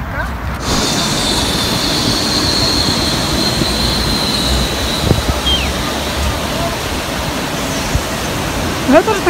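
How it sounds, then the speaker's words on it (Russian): Mountain river in Abkhazia rushing past, a steady broadband roar of churning water that stays even and fairly loud throughout, with no clear speech over it. "Там протекает горная река."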